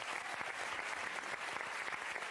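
Studio audience applauding during a French television variety show, a dense, steady wash of clapping that holds at even loudness for the whole stretch with no voices over it.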